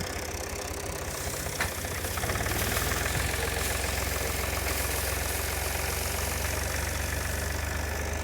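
Tractor engine running steadily with a low, rhythmic knocking chug while a landscape rake strips leaves and dry material from branches, heard as a continuous rumble with faint scraping over it, moderately loud and unbroken.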